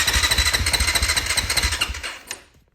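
Engine of a 2018 Honda CRF 450R dirt bike chugging rapidly and evenly at close range, then cutting out and fading to silence after a couple of seconds.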